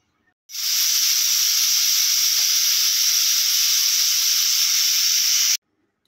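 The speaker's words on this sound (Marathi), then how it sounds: "ह्याच्यावरती झाकण ठेवून कुकरला मी 9 ते 10 शिट्या करून घेणार आहे" A loud, continuous jet of hissing steam from a pressure cooker whistle while cooking lemons for pickle, starting suddenly, lasting about five seconds and stopping sharply.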